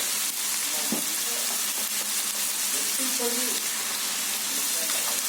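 Salted raw prawn curry is stirred in a pan, with a continuous bright sizzle of frying and a few soft spoon scrapes underneath, close and steady, and no voices.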